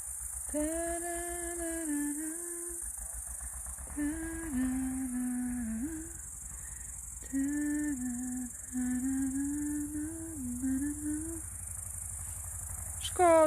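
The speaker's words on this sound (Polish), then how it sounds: "Ale zobacz, ile tutaj świerszczy." Many crickets chirp in the mountains of the Gorce range near Ochotnica, Poland, forming a steady high-pitched chorus that runs throughout beneath intermittent sustained melodic tones.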